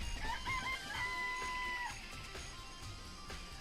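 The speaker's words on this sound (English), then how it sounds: "I remember there were some chickens in the chicken coop." Chickens in a coop in the video game Danganronpa, with a rooster-like crowing call and rising tones over a busy game background, moderately loud and sustained, no talk.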